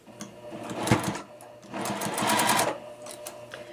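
A sewing machine stitches a quilt block seam in two quick bursts of rapid mechanical chattering with a pause between, close and moderately loud.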